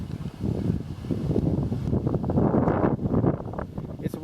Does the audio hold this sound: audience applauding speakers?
no